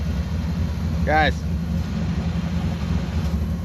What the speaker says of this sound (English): the truck's running over there.